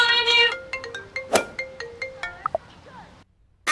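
A phone ringtone plays a bright repeating electronic melody of stacked tones for about three seconds at a costume party, then stops, leaving brief quiet before a voice comes in.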